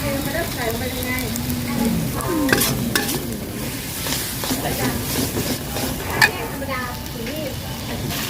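Glass noodles with nham stir-fried in a pan: loud scraping and tossing strokes over a constant sizzle, while someone talks through much of it.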